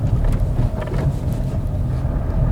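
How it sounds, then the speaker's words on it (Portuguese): A 2022 Fiat Argo S-Design 1.0 rolls over a speed bump at 30 km/h, with a steady, close, low rumble of engine and road noise and no distinct impact thump. "Vamos ver a segunda lombada agora aqui a 30 por hora"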